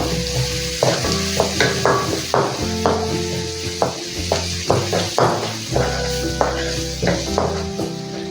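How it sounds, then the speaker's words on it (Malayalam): Finely chopped medium onion sautéing with cumin in a pan for pav bhaji, a steady loud sizzle with repeated scraping stirs and clinks of a spatula against the metal, no voices. "ഇതിലേക്ക് ഒരു മീഡിയം സൈസ് സവാള കുഞ്ഞായി നുറുക്കിയത് ചേർത്ത് വഴറ്റിയെടുക്കാം."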